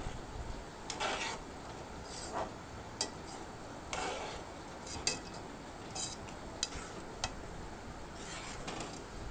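A spoon scrapes and clinks against a pan while grated coconut modak filling is stirred, giving soft, irregular taps and scrapes with a few sharper metallic ticks, fairly quiet and close.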